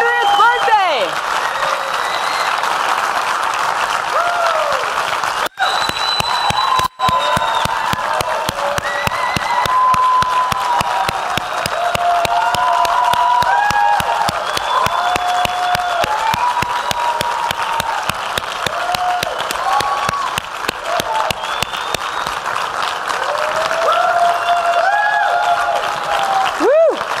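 Sustained audience applause with cheering at a 100th birthday celebration for Jacque Fresco, dense rapid clapping from a large crowd lasting the whole stretch, loud and continuous, with a voice speaking briefly over it.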